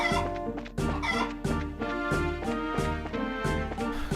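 Chicken clucking in the video game Trails in the Sky, set against steady game music; short clucks recur every second or so, loud and close alongside the melodic background.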